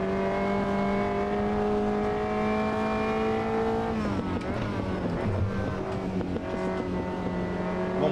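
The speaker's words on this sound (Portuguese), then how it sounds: "É muito legal quando você tira o pé do acelerador, o som que ele vai fazendo" Prototype race car engine in the Automobilista 2 video game at night, lifting off the throttle: a loud, steady multi-harmonic engine drone that drops in pitch and breaks into crackling, burbling overrun, continuous and alone.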